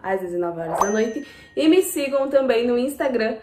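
A notification bell sound effect gives a brief, bright ding that rings out beneath continuous speech.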